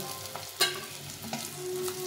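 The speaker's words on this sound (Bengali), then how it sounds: "নিয়ে বাকি মাছগুলো এভাবে ভেজে নেব।" Rohu fish pieces frying in oil, a quiet sizzle broken by a sharp scrape or stirring clatter and a few soft knocks of a utensil in the pan, with no one speaking.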